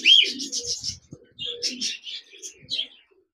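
A male cockatiel in a cage gives a run of bright, chirpy calls in short bursts, close by, with faint low talking beneath.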